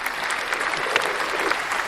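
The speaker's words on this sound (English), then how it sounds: "You got sound effects again. There we go. That was the crowd." A crowd cheering sound effect, a short, loud, steady burst of applause and cheers with no break.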